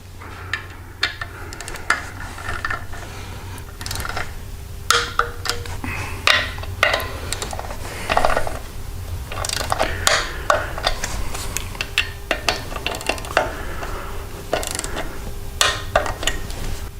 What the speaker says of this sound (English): Now we torque these 3 bolts down to 108 to 120 inch-pounds.